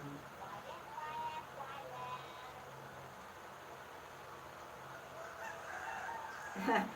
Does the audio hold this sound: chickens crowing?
yes